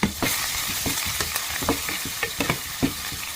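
Onions fry with salt in a pan, giving a steady crackling sizzle broken by repeated scraping stir strokes at an irregular rhythm, close and moderately loud with no talking.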